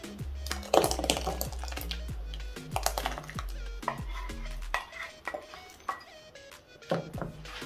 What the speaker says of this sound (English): My grandmother's just finishing up mixing everything together.